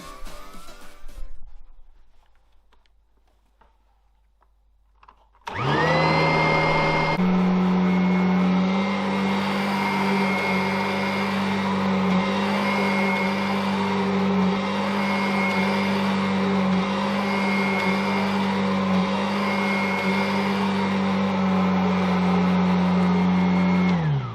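A Kirby Avalir 2 vacuum cleaner starts up after a quiet pause and runs steadily and loudly with a strong motor whine, with a faint rhythmic swell from repeated forward-and-back passes over the floor.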